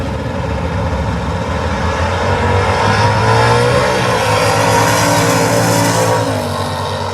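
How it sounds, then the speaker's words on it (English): A '69 Camaro and a Chevy truck launch side by side down a drag strip at a bracket race, engines roaring loudly and revving hard through gear changes, a dense continuous drone up close. "'69 Camaro coming up against the Chevy truck."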